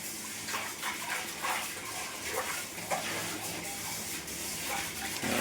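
Mutton curry simmering toward a boil in a pot, a steady soft bubbling and hiss at low level with faint clinks, continuous throughout.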